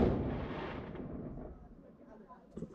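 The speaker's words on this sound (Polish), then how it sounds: "Strzelają tu, jadę stąd." Nearby gunfire crashes out at a roadside stop in Italy, a loud booming burst that rolls off and fades over a few seconds, with a smaller sharp pop near the end.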